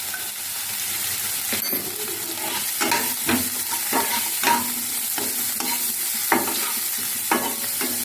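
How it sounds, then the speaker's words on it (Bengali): Cut potato and eggplant pieces fry in oil in a pan, a steady close sizzle broken by repeated spatula scrapes and stirring knocks every second or so. "কেটে রাখা আলু বেগুন ভাজা হয়ে গেছে"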